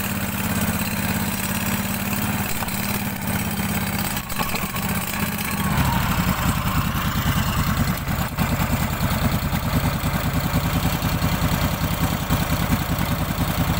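Engine of a homemade snowmobile moving slowly over snow, a steady loud mid-pitched drone that shifts to a rougher, busier chug partway through, with constant wind-like hiss, no talking.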